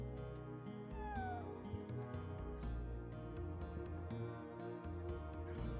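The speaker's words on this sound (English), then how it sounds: "You can interact with the cats." Cats in the game Chrono Cross give several short, high meows, some rising and falling, over a steady musical background.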